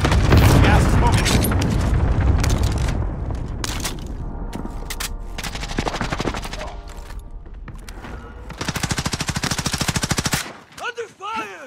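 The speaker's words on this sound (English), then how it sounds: "Under fire!" Heavy Call of Duty Warzone gunfire, with dense automatic bursts and booming shots filling the first seconds. The shooting thins into scattered reports, then returns as a rapid machine-gun stream before stopping abruptly. Game voice lines sound over it.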